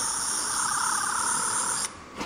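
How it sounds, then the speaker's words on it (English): A plastic toy replica of the Tenth Doctor's sonic screwdriver from Doctor Who emits a steady high-pitched electronic chirping warble, close and alone, cutting off abruptly near the end. "where you have a chirping sound over it"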